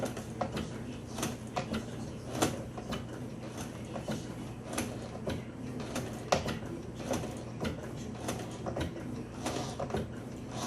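A sewing machine stitches slowly through thick layers of fabric while making a face mask. Close, steady mechanical whirring carries repeated clicking and ticking, with no talk.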